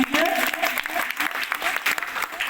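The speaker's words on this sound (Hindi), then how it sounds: "ताली बजा दीजिए।" Students clap together at a school prayer assembly, a lively, fairly close burst of applause with quick uneven hand strikes that carries on for a couple of seconds.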